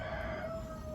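A cockerel crows briefly among a mixed pen of hybrid laying hens on a farm, one short, fairly faint call with a steady held tone over a low background.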